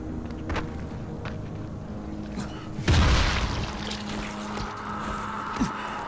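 An explosion in the zombie game Dying Light bursts loudly midway as a single heavy boom with a rumbling tail over ongoing game ambience.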